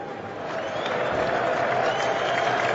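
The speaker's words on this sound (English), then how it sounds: "can actually hear the crowd now" A large crowd at a cricket match at Lord's roars and applauds in a steady, swelling wash of noise that builds slightly and holds, heard from a distance with no clear talk over it.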